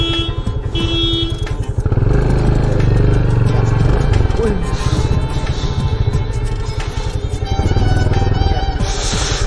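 A motorbike engine idles and revs nearby, a loud throbbing rumble that rises and falls over several seconds, with brief voices and traffic noise mixed in.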